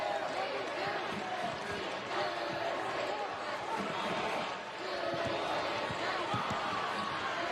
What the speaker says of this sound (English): Crowd noise.